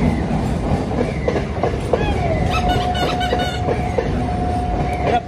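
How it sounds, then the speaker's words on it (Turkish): A train rolls past in Kolkata, India, with steady rumbling clatter, rhythmic wheel clicks and a sustained metallic squeal from the wheels, loud and close throughout. "anda buradan da tren geçiyor arkadaşlar"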